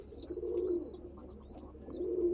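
Two soft, low coos from Andhra Kalsira Lalsira pigeons at a loft, one early and one near the end, faint and nearby with a light background hum and no voices.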